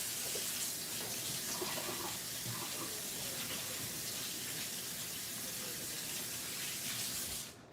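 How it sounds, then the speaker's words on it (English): Tap water running steadily into a kitchen sink while someone washes their hands, a loud continuous close-up gush that stops abruptly at the end. "Let me wash my hands real quick."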